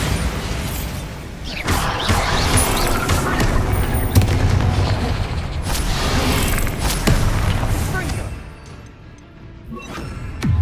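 Rapid, repeated spell blasts from Bombarda and Confringo in Hogwarts Legacy, loud booming crashes and impacts piling up continuously over dense game noise, easing slightly toward the end.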